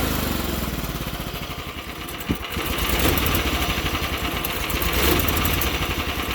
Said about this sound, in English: But there's no load on her, so, and she is on idle.